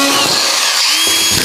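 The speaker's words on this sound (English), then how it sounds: "Now all the boards are up, I can just run around and put the rest of the screws in" A power drill drives screws into wall boards in a garden room workshop build, a loud close whine that dips briefly, then picks up again as the screw goes in.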